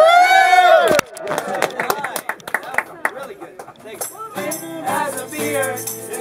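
A group of staff at Urraca cheering together: a loud, sustained opening shout, then a jumble of overlapping whoops, claps and excited voices, with another burst of cheering near the end.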